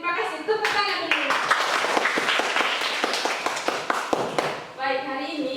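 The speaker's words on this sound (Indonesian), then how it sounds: "Tepuk tangan dulu." Group of students in a Catholic religious education class clapping hands together, a short burst of brisk, close clapping lasting several seconds between bits of a teacher's talk.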